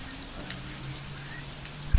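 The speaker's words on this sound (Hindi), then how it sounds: "गाइस अब बारिश ना थोड़ा कम हो चुका है।" Steady, easing rain falling outdoors, a soft continuous patter that fills the short moment evenly, ending with a brief low thump.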